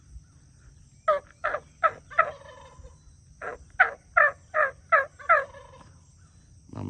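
A wild turkey gobbles in a front yard on an early morning, delivering two rapid series of loud, rattling gobbles separated by a pause against a quiet background, with no talking.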